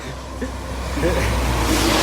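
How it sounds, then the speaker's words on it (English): A big truck rumbles past outdoors, a steady low engine roar building toward the end, with speech-like sounds mixed in. "there's a big truck coming, making its noise"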